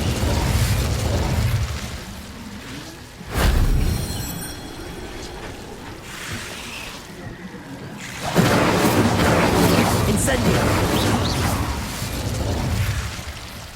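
Incendio fire spells cast repeatedly in Hogwarts Legacy, loud roaring fiery blasts with booming low-end bursts, one around the middle and a longer sustained whoosh later, close and dominant.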